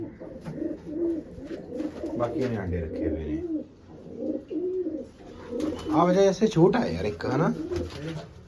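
Soft, repeated cooing of pigeons close by, mixed with someone talking, the calls rising more clearly toward the end.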